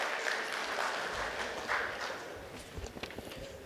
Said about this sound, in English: Can I have a huge round of applause for our committee member Balram?